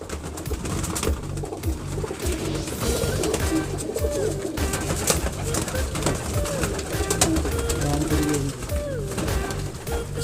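A flock of Kasuri red-eyed pigeons kept for sale coo repeatedly and overlapping, close and continuous, with wing flutters and rustling in the loft.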